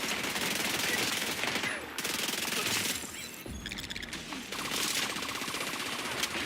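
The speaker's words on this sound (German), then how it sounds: "Ich höre Schüsse." Gunfire in The Division 2 video game: sustained bursts of automatic weapon fire with a short lull, dense and continuous, moderately loud without talk.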